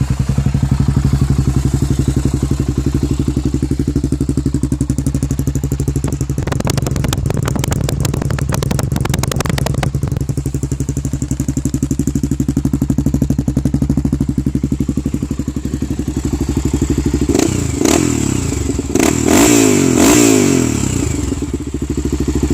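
A 2003 motorcycle engine idles loud and close, running steadily with a deep even throb, then the throttle is blipped for two bursts of sharp revving before it settles back to idle.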